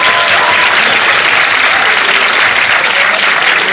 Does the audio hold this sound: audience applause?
yes